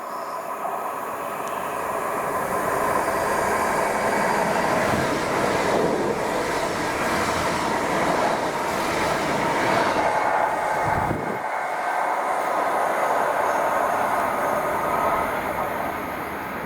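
A passing Chiltern passenger train heading towards Marylebone roars loudly and continuously through a Sudbury station, with rumbling wheels and rhythmic clatter over the rails, close by throughout.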